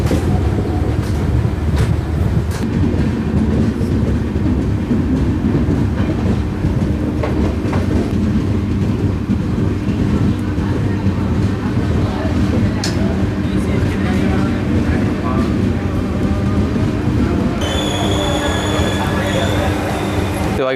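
A train rumbles steadily into Indi Road railway station near the Maharashtra–Karnataka border, with continuous wheel clatter and rolling noise close by and brief squeals near the end.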